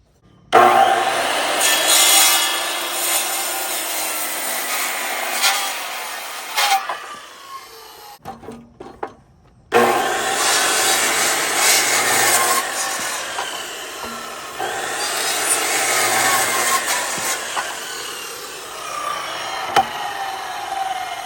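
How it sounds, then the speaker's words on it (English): A Makita 10 1/4 inch circular saw cuts through a wooden post, a loud continuous rasping whine that runs for several seconds, drops out briefly, then resumes for a second long cut. "That makes a nice clean cut."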